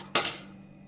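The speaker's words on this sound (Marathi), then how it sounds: "तर आपण गॅस पेटवून घेऊ. गॅसवर कढई ठेवू." A metal kadhai set down on a gas stove in a home kitchen gives two quick, sharp metallic clanks close by, followed by a brief fading ring.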